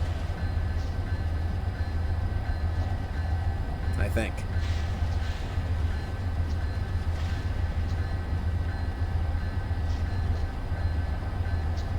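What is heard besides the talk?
Amtrak train passing in video game Train Simulator 2019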